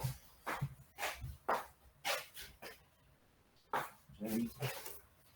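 A dog barks and huffs in short repeated bursts nearby, with a person talking in the background.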